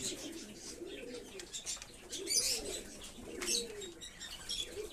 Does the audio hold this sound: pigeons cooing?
yes